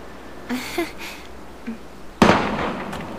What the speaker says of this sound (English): Gunfire!